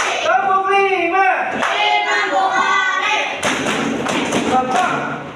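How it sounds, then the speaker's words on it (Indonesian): Hand clapping in a counted rhythm during a classroom lesson with children, sharp close claps mixed with a loud chanting voice counting along. "tepuk 1, tepuk 2, tepuk 3, tepuk 4, tepuk 5"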